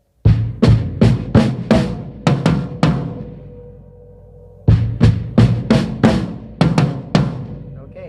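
Drum kit groove for a song played at tempo: sharp, evenly spaced hits with cymbal wash in two bursts separated by a decaying ring, loud and close with no talking.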